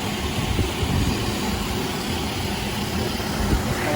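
A diamond-head track polishing machine with nine diamonds per head runs steadily, giving a continuous, dense motor drone and grinding roar at an even level, with no talking.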